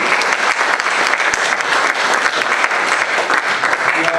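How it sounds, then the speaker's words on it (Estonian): An audience applauds after a museum talk about village stories at the Kolga museum, giving dense, steady, loud clapping that fills the whole stretch without a break. "Ja aplaus Ulvile"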